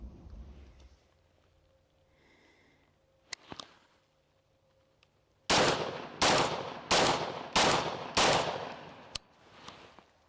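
A gun fitted with a Kahntrol Solutions muzzle brake fires at a target from 15 yards. After a quiet stretch with a faint click, six loud, sharp shots follow one another at a steady, rapid pace, each with a short ringing tail.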